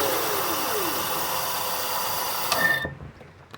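Whirring hum of an Ariel Rider X-class e-bike hub motor spinning on light throttle, heard up close as a steady whine with a brief rising surge near the end before it cuts off and fades.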